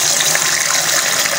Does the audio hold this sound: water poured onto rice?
yes